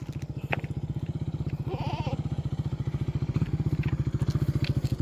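A motorcycle engine chugs steadily up close with a rapid, even putter, growing slightly louder as it goes by; a faint bleat-like call rises briefly midway.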